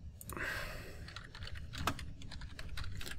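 Rapid, steady typing on a computer keyboard, close and quiet, with soft key clicks running continuously over faint room noise.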